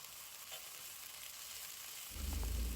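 Beef noodles with pak choy and bean sprouts are stirred in a hot pan, a faint steady sizzle that swells into louder frying near the end.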